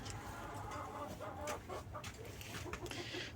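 Chickens in a farmyard cluck softly and continuously while pecking at sand, with occasional faint scratching sounds, all nearby and at a low level.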